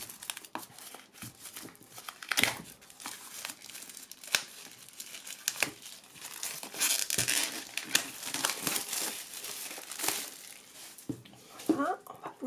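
A large rigid oracle card box being opened close up, with crinkling and crumpling of packaging, scattered taps and brief scraping over about twelve seconds, a quiet voice speaking now and then.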